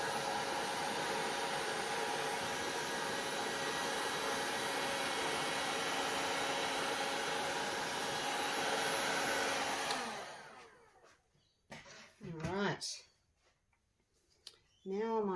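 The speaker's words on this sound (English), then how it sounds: "Now I might just whack it with this little heat gun and see if I can get some cells to come up" A small heat gun blows over a resin-coated sculpted panel, a steady close roaring hiss that runs for about ten seconds and then switches off, followed by a few faint clicks and handling noises.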